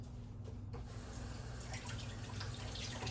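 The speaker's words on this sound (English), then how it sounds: "Let me just rinse off my hands." Tap water runs steadily into a sink as hands are rinsed, a quiet continuous splash with faint patter and no talking.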